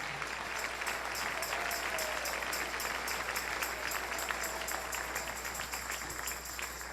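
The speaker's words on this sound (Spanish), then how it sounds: "Dale ese aplauso al Rey en esta mañana." A church congregation at a morning service applauds for the King, sustained dense clapping from a large crowd heard at moderate distance, steady and unbroken for the whole stretch.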